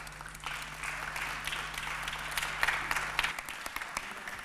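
A conference audience applauds as panel speakers on artificial intelligence, competitiveness and employment are welcomed: soft, steady clapping from a crowd, fairly distant, over a low hum that cuts out near the end.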